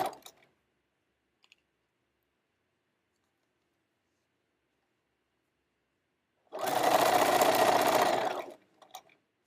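A sewing machine stitches the lining of a heart-shaped zippy pouch in one steady two-second run, preceded and followed by quiet and a few faint clicks.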